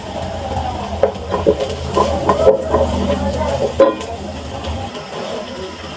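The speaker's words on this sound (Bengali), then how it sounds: "দিয়ে দিচ্ছি হাফ কাপ পেঁয়াজ কুচি" Chopped onion and ginger fry in a pan, giving a steady close hiss with occasional stirring scrapes and clatters, no voices.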